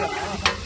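Vegetable pieces being stirred into a pot of sambar for a village Ganapati annaprasana feast, a short scraping stir with a brief sharp clink near the end, close and moderately loud.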